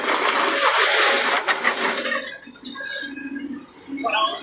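A bus fords a flooded river in Nawalparasi, Nepal, churning up loud, broad water splashing for about two seconds that then eases into quieter lapping and wash.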